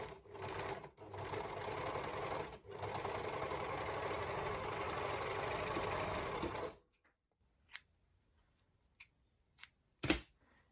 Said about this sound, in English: if you're using it on your regular sewing machine, or if you're using an overlocker, feel free to do it on your overlocker